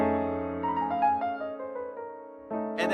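An altered jazz chord rings on piano, sustained tones with a few inner notes shifting above, fairly quiet and alone, before a fresh chord is struck near the end.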